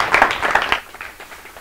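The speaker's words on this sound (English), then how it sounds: "Give you a round of applause for Aleksi." Audience applause after a talk at a technology event, a short burst of scattered clapping from a small crowd that fades quickly after under a second, leaving a quiet room.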